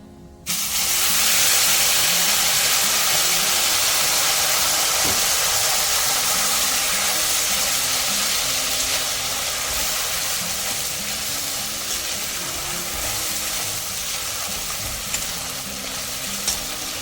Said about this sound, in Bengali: একটু জিরে ফোড়ন দিচ্ছি, একটা শুকনো লঙ্কা দিচ্ছি, এবার মশলাটা দিয়ে দিচ্ছি।